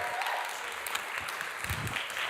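Church congregation applauding for a young couple, steady dense clapping from many hands, filling the room for a couple of seconds.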